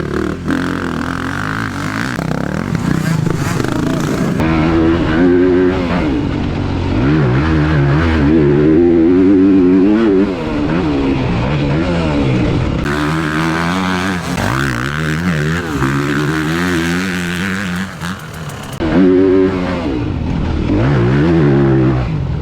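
Motorcycles rev and roar continuously at close range, engines rising and falling in pitch as they accelerate and back off on a weekend ride, loud throughout with no talking.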